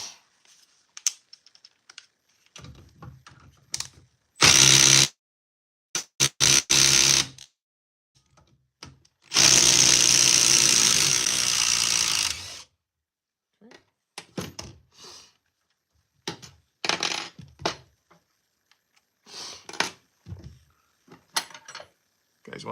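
Milwaukee M12 subcompact impact driver sinking an 8-inch timber lock screw, heard as two loud bursts of rapid hammering impacts, one short and one longer run, separated by quiet, with scattered clicks and handling noises afterward.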